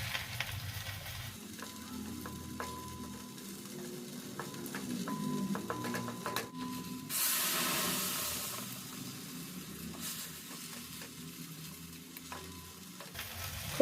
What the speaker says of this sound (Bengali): ডালটা সাঁতলে নেওয়া হবে, জিরে গুঁড়ো, লঙ্কা গুঁড়ো